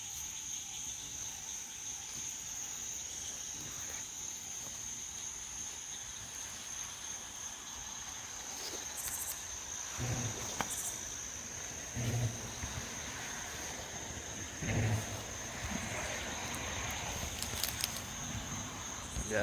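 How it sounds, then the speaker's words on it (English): Cricket frogs and green tree frogs calling at night along a lakeshore, a faint steady high chorus with occasional louder clicking calls in the distance, no voices. "We also hear cricket frogs and green tree frogs calling."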